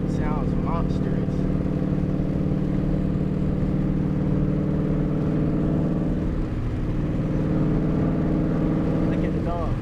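Ford Mustang GT V8 engine rumbling steadily at idle or low revs, a continuous deep drone heard from inside the car, with faint background noise and no clear revving bursts.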